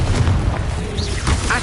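A Confringo spell in the Hogwarts Legacy video game bursts into a deep, booming fiery explosion, loud and close, with rumbling low end and a brief whooshing trail.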